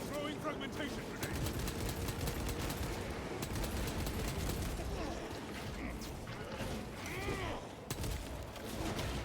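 Fragmentation grenade blast and surrounding gunfire in a Warhammer 40,000 video game, heard amid dense, loud combat noise with rapid shots and crashes throughout.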